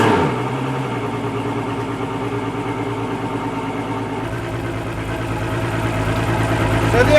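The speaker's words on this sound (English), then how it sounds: "this engine always starts quick and purrs like a kitten" A boat engine idles steadily with an even, throbbing low hum, close and constant, its tone shifting slightly partway through.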